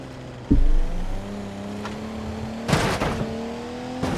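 Engine of a car in BeamNG.drive with a blown head gasket and a dead turbocharger, revving and droning steadily at a held pitch, with a loud thump near the start and bursts of clatter later.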